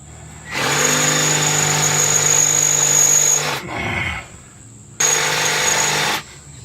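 A power drill bores into an easy out screw extractor stuck in a Nissan 300ZX, whining loud and steady in two long bursts separated by a brief lower, rougher stretch.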